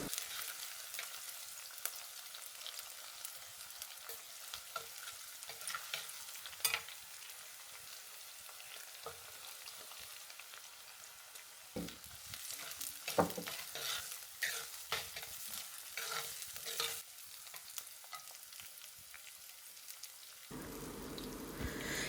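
Garlic, ginger and curry leaves sizzle and are stirred in a pan while making a Kerala tilapia fish curry with coconut milk, giving steady close frying crackle with scattered scraping stirs and no speech.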